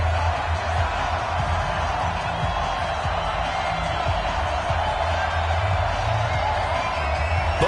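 Stadium crowd noise in an EA Sports NFL video game, Indianapolis Colts vs Tennessee Titans: a steady, loud roar of cheering fans filling the whole stretch, with a commentator's voice over it.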